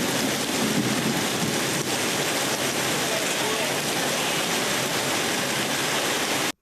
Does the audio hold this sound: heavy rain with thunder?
yes